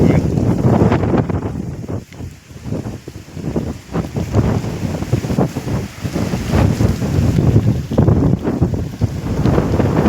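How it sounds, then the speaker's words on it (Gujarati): Strong wind buffets the microphone with a continuous low roar and rumble that surges and dips throughout, loud and close. "આ બાજુ પવન છે ને, આમથી પવન આવે ને"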